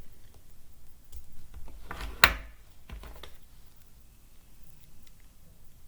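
Scissors snipping through crochet yarn, a few soft close rustles building to one sharp snip, then a faint follow-up click in an otherwise quiet room.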